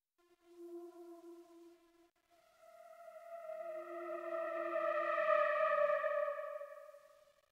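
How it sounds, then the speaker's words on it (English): Creepy FM synth pad built in Ableton Live from a heavily unisoned sine wave frequency-modulated by an identical oscillator, with pitch modulation, holding sustained tones that pause briefly, then return and swell louder for a dubstep track. "we can start with this creepy FM pad."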